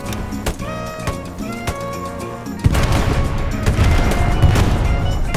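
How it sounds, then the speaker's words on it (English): World War II gunfire and explosions in the game Hell Let Loose; rapid shots crack over a steady background, then a loud blast hits midway and leaves a dense, continuous roar of fire and impacts. "Bullets snap as they whiz by you. Your screen shakes from explosions"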